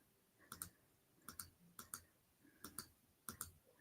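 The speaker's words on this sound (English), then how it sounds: "Sorry if you keep hearing the clicking." Sharp clicks come close and distinct in quick pairs, five double-click bursts spaced roughly evenly, with faint background between them and no speech.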